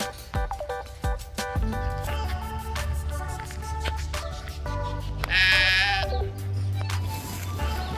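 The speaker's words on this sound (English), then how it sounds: "You're a sheep." Sheep bleat on a dairy farm, several wavering calls close by, with one higher, sharper cry midway, over light background noise and no clear talk.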